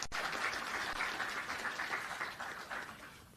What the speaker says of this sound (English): I need once again round of applause